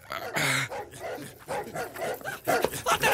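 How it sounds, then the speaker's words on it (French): Dogs let loose outdoors bark and yelp in short, excited bursts, fairly close and loud, with uneven gaps between the barks. "je lâche les chiens"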